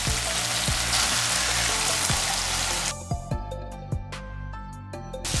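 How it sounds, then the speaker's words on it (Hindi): Paneer cubes sauté lightly in a pan with a dense, steady sizzle, which thins partway through into a lighter crackle broken by quick taps and clinks. "इसे हल्का सा सॉटे करना है। अब इसमें मैंने लिया है 1 बाउल क्यूब पनीर।"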